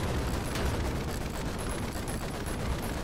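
A heavy M2 Browning machine gun fires in a D-Day combat video game, a dense, continuous roar of rapid gunfire that stays loud and unbroken through the whole stretch, with no voices.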